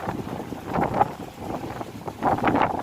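Gusty storm wind ahead of rain buffeting the microphone in uneven surges, rumbling and rushing close by, with no voices.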